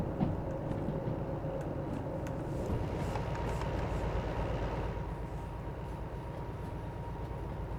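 Freight train hauling excavators in the Derail Valley video game, a continuous low rumble of wagons rolling on the rails with faint clicks, steady and close throughout, no voices.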